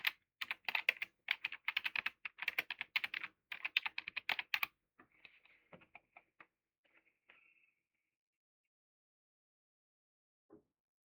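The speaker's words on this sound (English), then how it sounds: "For instance, let's type this in." Quick clattering keystrokes on a computer keyboard, a dense burst of typing that thins into scattered, softer taps and then a long quiet with one last isolated click.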